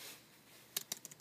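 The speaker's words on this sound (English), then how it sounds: "I've connected a Bluetooth keyboard." Quiet key clicks on a Bluetooth keyboard used with a Pioneer XDJ Aero DJ system, about five quick taps in an uneven burst after a short near-silent pause.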